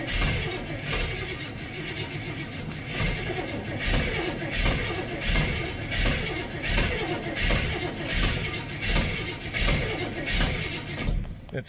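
A car engine cranks over and over without catching, a steady rhythmic churning of the starter pulsing about twice a second, loud and close for the whole stretch.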